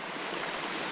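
A brief rush of creek water released through opened floodgates at a micro hydro intake, a steady, loud broadband gush with no other sounds.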